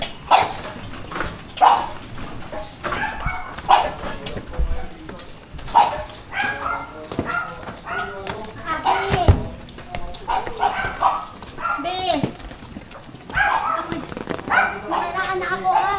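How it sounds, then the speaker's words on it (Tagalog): A dog barks in short yips and whimpers several times, close by and under ongoing conversation. "Oh, ang ganda ng aso."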